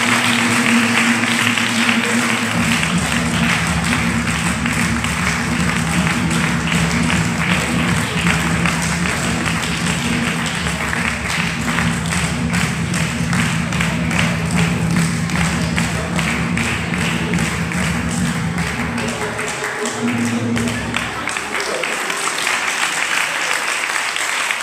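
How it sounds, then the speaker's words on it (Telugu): A church congregation claps their hands during adoration and mass, sustained dense applause that runs loud and steady for over twenty seconds before tapering off near the end. "క్లాప్ కొట్టండి ఇంకా."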